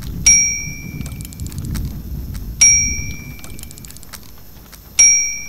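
A small bell in the Syberia video game, struck by a wind-up automaton: three bright metallic dings about two and a half seconds apart, each ringing clearly and fading slowly over faint background noise.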